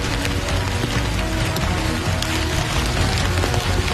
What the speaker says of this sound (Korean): 작업을 시작하자마자 떨어지는 빗방울.